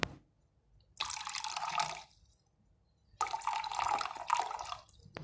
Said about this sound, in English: Now we also add some water in the glass jar.